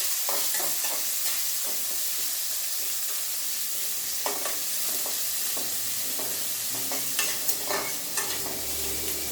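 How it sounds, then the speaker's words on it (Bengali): Chopped onion fries in a pan over lowered heat, giving a steady close sizzle broken by scattered scraping and clinking stirs, a few sharper clatters near the end. "পেঁয়াজ কুচি দিয়ে দিলাম।"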